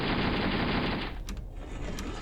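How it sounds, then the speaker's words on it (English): A T-62 tank's coaxial machine gun in a video game fires rapid, continuous automatic bursts that rattle loudly for about a second, then fade into a dull rumble with a few faint distant pops. "And gunfire."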